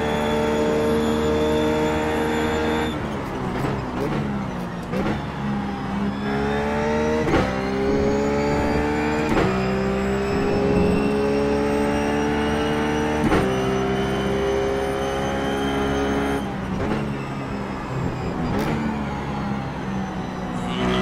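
A Ruf race car in iRacing at Interlagos, its engine droning steadily close up as the throttle is cracked and modulated, pitch rising and falling with several sharp shifts and surges over a continuous roar.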